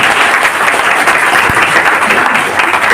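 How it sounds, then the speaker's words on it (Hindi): Steady, dense applause from an indoor crowd at a celebration event, loud and continuous for the whole stretch with no voices standing out. "बस एक बार तालियां हो जाए इसके लिए।"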